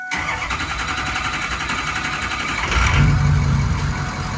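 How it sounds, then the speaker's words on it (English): A Ford 6.0 Powerstroke diesel truck engine cranks and fires up, settling into a steady, loud rumbling idle that swells slightly louder near the end, with no talking. "So we're going to go ahead and fire the truck up."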